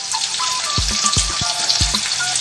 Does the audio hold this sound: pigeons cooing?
no